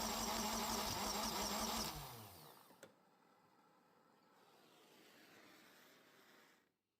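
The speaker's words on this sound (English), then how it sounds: "As I'm cranking this thing, listen to the engine." An engine with suspected valve-timing trouble cranks on its starter for about two seconds, loud and rhythmic, then stops abruptly, leaving a faint hiss and low rumble afterward.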